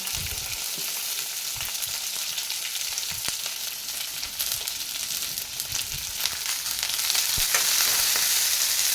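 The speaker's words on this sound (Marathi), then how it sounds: "आता हा कांदा आपल्याला थोडासा भाजून घ्यायचा आहे" Onion and crushed garlic with green chilli pieces fry steadily in a pan, a dense continuous sizzle with scattered crackles and pops, growing a little louder toward the end; no one speaks.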